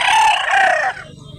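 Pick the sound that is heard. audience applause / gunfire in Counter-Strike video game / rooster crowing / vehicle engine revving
rooster crowing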